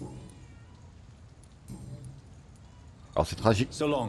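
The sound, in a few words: cat meowing in video game Vampyr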